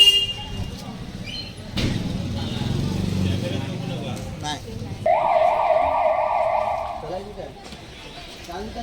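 An emergency vehicle siren sounds during an emergency response to a bomb threat at the Ratnagiri tehsildar office, a steady wailing tone that rises loud midway and holds for about two seconds over street noise and people talking.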